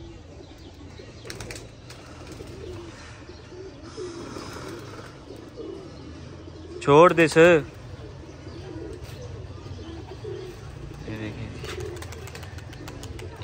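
Pigeons at a pigeon club coo softly as they are let out of their loft, with a brief burst of flapping midway, under someone talking.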